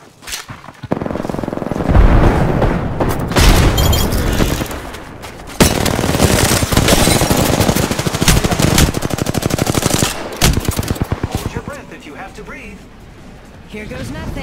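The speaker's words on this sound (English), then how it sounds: "Grenade!" Rapid automatic gunfire and a grenade explosion in Apex Legends gameplay, loud sustained bursts with heavy booms and crashes, a player speaking throughout.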